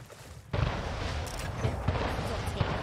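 A sudden burst of heavy gunfire hitting a ship in the video game Anno 1800 erupts after a quiet moment, with repeated booming impacts continuing loudly to the end.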